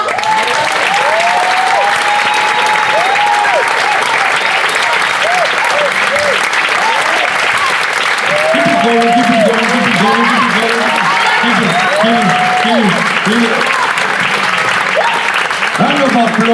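After a poem at a spoken-word session, an audience keeps up loud, sustained applause, while voices can be heard talking over the clapping throughout.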